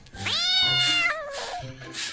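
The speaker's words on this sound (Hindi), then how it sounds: "यह बिल्ली किस प्रकार से आपस में आवाज़ देते हैं" A cat gives a loud, close meow, a rising and then falling wail followed by a shorter trailing call, with no voices.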